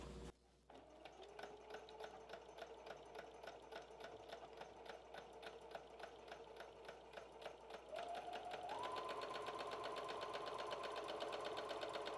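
A sewing machine runs steadily through pajama-shorts fabric, its rapid needle chatter close and loud and continuous, speeding up and rising in pitch near the end.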